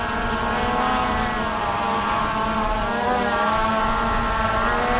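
A Skydio 2 drone hovers close by outdoors in light wind and yaws around. Its propellers give off a steady, loud buzzing drone for the full five seconds, with no speech.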